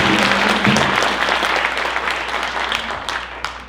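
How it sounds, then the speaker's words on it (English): Audience applause at a Ute Indian pow-wow dance performance at the Steamboat Springs History Museum, honoring a drum group: dense, steady clapping from a sizable crowd that fades slightly toward the end. "So if we can get a round of applause for them."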